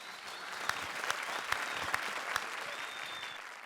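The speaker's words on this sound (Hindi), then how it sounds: "तो एक बार जोरदार तालियां राजीव के लिए" A comedy show audience breaks into vigorous applause, a thick steady clatter of hands with a few sharp, louder claps standing out at intervals.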